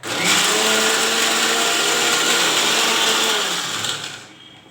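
A mixer grinder churns spinach chutney in a loud, steady motor whir lasting several seconds, then winds down and cuts off near the end, with no speech over it.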